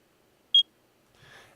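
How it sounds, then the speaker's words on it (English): A single short, high-pitched electronic warning beep from a video game sounds once, clean and brief, followed by a faint soft rustle. "your sound should be one very small beep"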